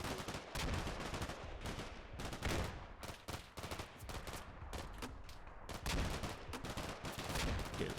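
Dense gunfire in Combat Mission: Black Sea as a Stryker brigade engages BTRs, with rapid machine-gun bursts and overlapping shots in a loud, continuous barrage.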